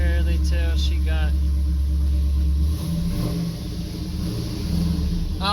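A Chevrolet Camaro engine idles quietly on its first start with no belt fitted yet, a low steady rumble that fades partway through while someone talks over it.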